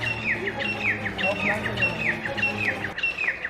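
Several birds call at night in a forest, repeating bright chirps and descending whistled notes in a steady, fairly close chorus over a low background hum, with no talk.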